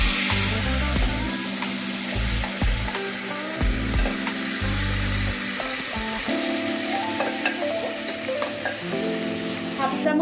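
Boiled chana dal hits hot oil tempered with spices and a pinch of asafoetida, giving a loud, steady sizzle with stirring and scraping over it for the whole stretch.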